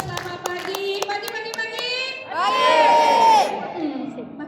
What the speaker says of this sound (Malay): Satu kali lagi tepukan yang sangat gemuruh untuk mereka.